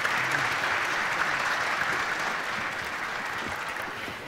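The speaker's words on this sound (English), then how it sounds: "Let's give him a round of applause." Steady applause from an auditorium audience at a welcome reception, dense and sustained clapping that fades slightly toward the end, with no talk over it.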